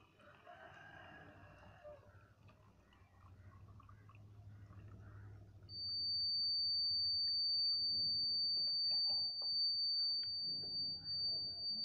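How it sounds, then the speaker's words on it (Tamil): A homemade water level alarm buzzer sounds once the container fills: a single steady, high-pitched electronic tone starts partway through and holds unbroken to the end, over faint room noise and no speech. "தண்ணி நிரம்புனதுமே இது அலாரம் அடிக்கும்."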